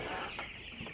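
Young, not fully feathered chickens cluck in a short, busy burst, close and moderately loud against steady background noise.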